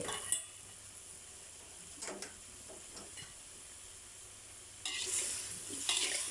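Pineapple and fried tofu are stir-fried for a vegetarian dish, with a low sizzle, scattered spatula scrapes and clinks against the pan, and a louder burst of hissing frying toward the end.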